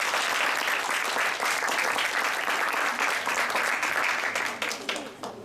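A hotel function room audience gives a dense round of applause, loud and sustained throughout, thinning slightly at the end, with faint voices beneath.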